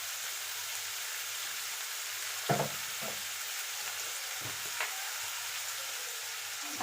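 Onions frying in a pan give a steady, soft sizzle throughout, with a few sharp stirring clacks standing out near the middle and toward the end; no one speaks.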